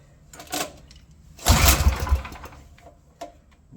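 A small petrol engine on a water blaster under repair sputters in uneven bursts, a short cough followed by a louder, rougher spell of running that fades away, heard close by in a quiet space.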